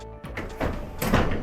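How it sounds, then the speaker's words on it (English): A hinged door on a new 2023 Bali 4.2 catamaran being raised after its hinges are unlocked, giving a close, solid thunk followed by rattling, knocking movement as it lifts. "This door comes up."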